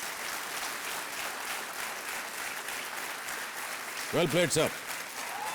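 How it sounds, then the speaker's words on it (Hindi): A studio audience on a quiz show applauds loudly and steadily, with a brief spoken voice breaking in near the end. "तालियां बजती रहे देवी और सज्जनों"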